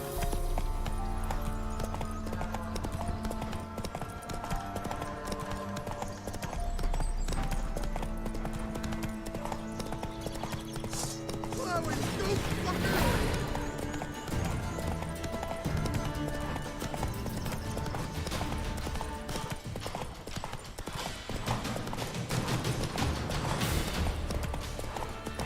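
Horse hooves clip-clopping in a steady galloping rhythm in The Witcher 3: Wild Hunt, loud and close over a continuous game soundtrack, with occasional whinnies from the horse.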